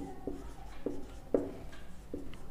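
Handwriting strokes as a math solution on matrices is written out, four separate scratchy pen strokes spaced about half a second apart, faint and close against a low room rumble.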